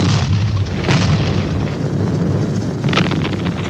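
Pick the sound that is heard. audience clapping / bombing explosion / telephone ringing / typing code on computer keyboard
bombing explosion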